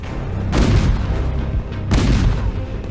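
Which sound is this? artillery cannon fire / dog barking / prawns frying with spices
artillery cannon fire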